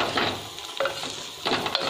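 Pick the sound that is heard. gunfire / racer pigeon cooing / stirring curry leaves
stirring curry leaves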